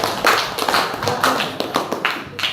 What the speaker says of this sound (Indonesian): tepuk tangan dong, applause untuk kelompok